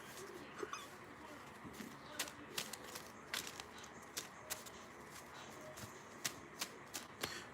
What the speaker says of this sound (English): I was shuffling for a general reading